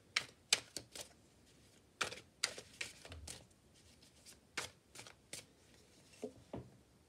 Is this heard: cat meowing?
no